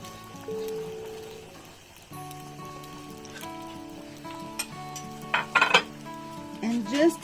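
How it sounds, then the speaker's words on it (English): Okra sautéing in a pan gives a soft sizzle under clinks and scrapes of a utensil against the pan, with faint steady tones in the background and brighter clatters toward the end. "And just saute the okras until it becomes cooked."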